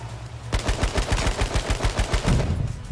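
Rapid automatic gunfire in a battle royale video game, a sustained burst of loud, closely spaced shots rattling steadily for a few seconds with no talking.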